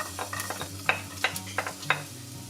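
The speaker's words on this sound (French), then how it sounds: "Donc dans une casserole, je verse un petit filet d'huile. Je vais faire revenir mon ail" Two cloves of garlic frying in a thin drizzle of oil in a saucepan, a soft steady sizzle with repeated stirring scrapes and light clicks close by, no talking.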